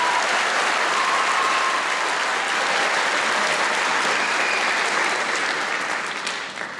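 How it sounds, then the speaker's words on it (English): Audience applause fills a school gymnasium or auditorium after a sixth grade band's fall concert piece, a steady dense clapping that stays loud and continuous, then begins to thin slightly at the very end. "If you guys can give them a round of applause."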